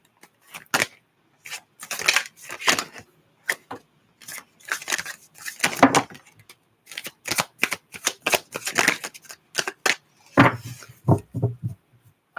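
Tarot cards being shuffled by hand in repeated short bursts of riffling and snapping, close and crisp, separated by brief pauses.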